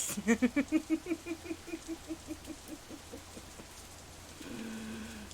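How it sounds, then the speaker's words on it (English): Steady rain falls in the visual novel Katawa Shoujo, a soft continuous wash with no talk over it, joined near the end by a low droning tone. "Despite the warm temperatures we've been enjoying, the rain is rather cold."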